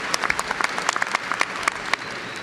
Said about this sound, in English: So a little applause there.